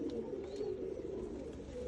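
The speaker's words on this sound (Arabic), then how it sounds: "هذا الحمام اللي وصلني، وان شاء الله القادم افضل" Pigeons of a rare, fully feathered imported breed cooing nearby in a steady, low, continuous murmur of overlapping calls, with no talking.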